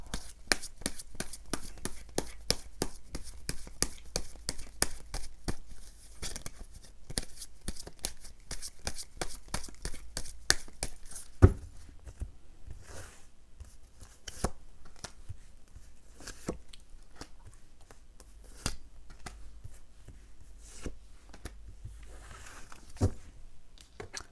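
Tarot cards are shuffled in rapid, dense bursts of papery riffling, then individual cards are drawn and placed with softer, sparser taps and slides. The sound is close and quiet, with no voices.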